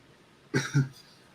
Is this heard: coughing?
yes